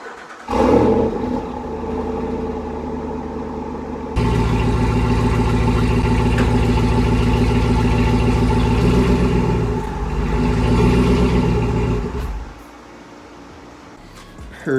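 A pickup truck engine starts up with a burst, then gets louder as the truck drives in. It settles into a steady rumbling idle for several seconds and cuts off near the end.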